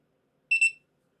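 A Redfield drawer handgun safe keypad gives two quick, clear electronic beeps in a row after the passcode is entered, with silence before and after.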